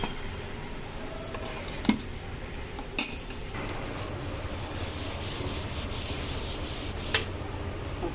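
A spoon scraping and rubbing through dosa batter in a steel bowl as broad bean seeds are mixed in, a steady close gritty swishing with a few sharp clinks against the rim.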